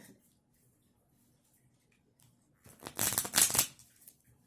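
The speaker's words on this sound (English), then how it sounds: "I'm going to start shuffling with cards before I come on to do the video." A deck of tarot cards shuffled by hand at close range, a dense burst of riffling and flicking for about a second after a quiet stretch, with faint speech around it.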